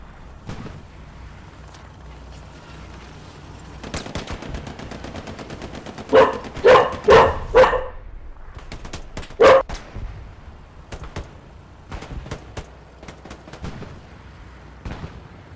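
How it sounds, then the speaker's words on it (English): A dog barks in a quick series of loud, sharp yelps close by, followed by a single later bark, over faint gunfire and background noise from a military shooter game. "Apologies for the dog sounds."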